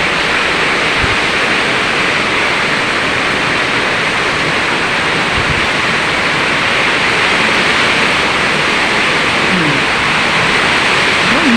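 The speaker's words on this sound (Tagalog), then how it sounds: "sobra talaga ang lakas ng ulan" Heavy rain from Typhoon Kristine pours in a dense, steady roar, loud and close, with no letup across the whole stretch.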